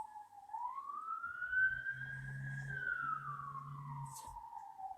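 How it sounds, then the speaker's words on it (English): A siren wails with a rising and falling pitch as a vehicle passes, engine rumble underneath, steady and fairly close throughout. "Just gonna wait for the siren to go past."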